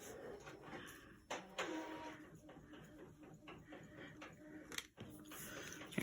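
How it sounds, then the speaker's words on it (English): A printer runs faintly in the background of a quiet room, a low mechanical whir with a few soft clicks and one brief louder burst near the end. "You'll hear the printer in the back in a minute."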